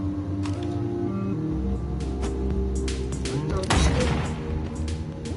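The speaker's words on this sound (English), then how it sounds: "Oh, that explosion looks cool." Video game gunfire crackles in a series of sharp shots, then a louder explosion bursts near the end, all over the game's background sounds and someone talking.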